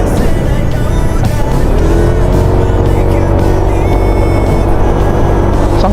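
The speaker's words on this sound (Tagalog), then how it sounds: "Darating, may motor, dalawang motor." Two motor scooters, such as a Yamaha NMAX, Aerox or Honda ADV160, on a night ride, with engines droning loudly and continuously, rising in pitch as they approach and pass.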